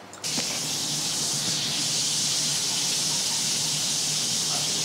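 A roast sears in a hot pan, giving a loud, steady broadband sizzle that starts abruptly with a brief pop and holds without letup, with no voices.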